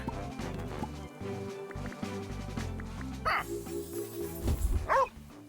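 A dog in the Dobbel Dungeon claymation video game yips and barks twice near the end, loud and close, over steady game music.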